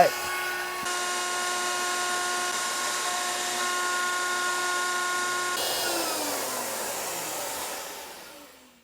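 A power tool whines steadily as it cuts a notch into the end of a rosewood Telecaster fretboard, a loud sustained high-pitched motor tone that shifts pitch partway through and winds down at the end.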